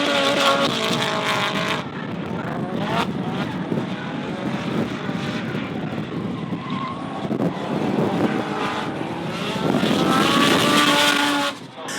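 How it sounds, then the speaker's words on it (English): Drift cars, a Nissan 180SX and S13, running at a D1NZ Pro-Am round in Taupo, with continuous loud engine roar and sustained tire squeal through the whole stretch, rising and falling as they pass. "The Mimico 180SX putting on a strong lead run"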